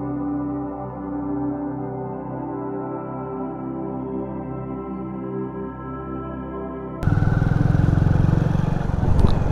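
Hero Splendor Plus 100cc motorcycle engine idling steadily with a low, even harmonic drone, close and continuous, then abruptly swamped by louder broadband rumble and wind noise near the end.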